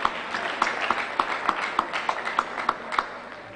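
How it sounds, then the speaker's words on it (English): Audience applause for drummers at a live-streamed event, a short burst of fairly sparse, rhythmic clapping with some claps landing on a regular beat, heard close and fairly loud. "So please let's give them a round of applause"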